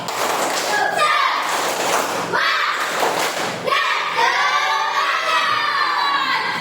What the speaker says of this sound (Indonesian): Oke, kita tepuk semangat.